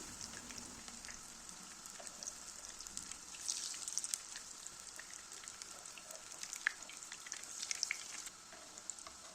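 Onion fritters frying in hot oil give off a steady, close sizzle with scattered crackles and pops, rising slightly in the middle and carrying on without any voices.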